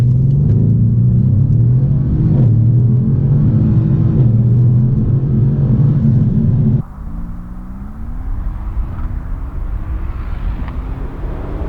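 A 503 hp Mercedes C63 AMG accelerates at full throttle, its engine a loud, deep roar rising in pitch, dropping abruptly at a gear change and then climbing again, with no talking.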